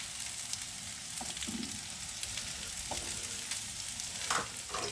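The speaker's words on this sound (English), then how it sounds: "shrooms first, because they need to cook down to be tender." Mushrooms fry in a pan for a steak risotto, giving a continuous soft sizzle with occasional scraping stirs and a louder clatter near the end, with no speech.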